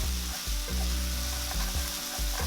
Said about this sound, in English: Once the pork has started to brown, you want to stir fry just the meat until it's mostly cooked through.